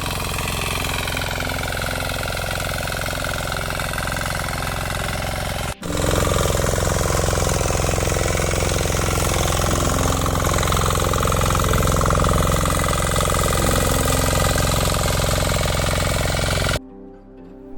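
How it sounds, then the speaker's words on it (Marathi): A tractor drives over a freshly sown rice paddy, its engine chugging loudly and steadily at close range with a rough, rattling throb, briefly dropping out once before resuming, then cutting off at the end. "भात पेरलेला त्या ठिकाणी पुन्हा एकदा ट्रॅक्टर फिरवून घेताव"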